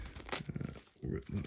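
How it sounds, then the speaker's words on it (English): Cling film packaging on a parcel from Japan being ripped open, a short rustling tear with crinkling, heard close up and interrupted by bursts of talk. "Rip that open."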